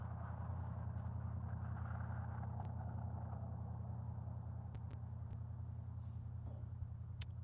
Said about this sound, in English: Sorry about that if the car noise goes by and it's kind of loud